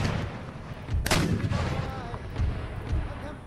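Massed musket and cannon fire rolls through an Empire: Total War siege battle near Istanbul, dense overlapping shots and booms with sharp cracks over a constant rumble.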